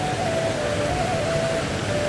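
Light rain falling steadily, a dense even hiss close by with a faint thin tone drifting beneath it.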